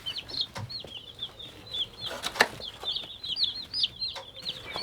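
A brood of baby chicks, shipped together, cheeps constantly at close range, a dense overlapping chorus of high thin peeps with faint rustling beneath.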